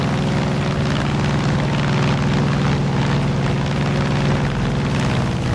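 A propeller airplane droning in flight in the game Far Cry 5, a loud, steady engine hum with a constant low pulse throughout.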